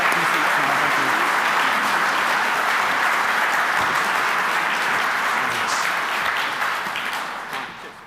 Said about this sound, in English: Can we have a round of applause for everybody?